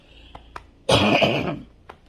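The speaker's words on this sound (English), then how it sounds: "coughing like crazy" A single short, harsh cough bursts out close by, framed by a few faint clicks in otherwise quiet surroundings.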